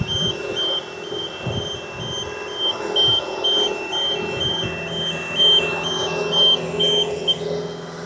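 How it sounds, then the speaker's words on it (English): A 45-foot boom lift sounds its reversing alarm, a repeated high electronic beep over a steady engine rumble, loud and close throughout. "Sorry for the beeping."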